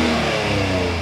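A used car's engine, freshly started and smoking while spitting oil, runs loud and close in a steady rough drone with a rev, no talk over it.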